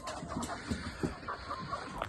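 Farm hens clucking in a coop at feeding time after mixed compound feed is put out, with a string of soft, close clucks and low chatter running steadily throughout.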